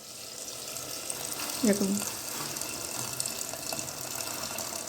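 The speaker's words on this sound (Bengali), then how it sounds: "এবারে আমি এখানে ঝোলের জন্য পরিমাণ মতো জল দিয়ে দিচ্ছি।" Water poured into a pot of red chicken curry (lal chicken jhol) to make the gravy, a steady rushing wash with one brief spoken word partway through.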